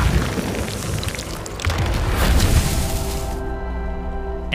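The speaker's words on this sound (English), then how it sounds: "Yes, that's enough fire tornadoes." Fire tornado spell explosions in the video game Hogwarts Legacy rumble as a loud, continuous roaring boom that swells near the middle, then fades into a lingering tonal hum with game music.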